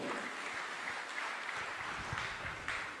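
A church congregation claps together during a preaching service, a continuous crowd applause at moderate distance with no voices on top.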